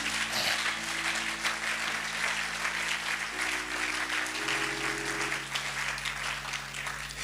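Congregation applauding the Lord at a church service, steady dense clapping from a crowd that continues throughout, with a sustained held organ or keyboard chord underneath whose pitch shifts a couple of times.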